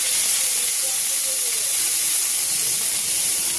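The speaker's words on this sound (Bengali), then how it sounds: "একটু আদা বাটাটা তেলে দিয়ে দিলাম" Ginger paste dropped into hot oil sizzles with a loud, steady, close hiss that holds evenly throughout, with no voices over it.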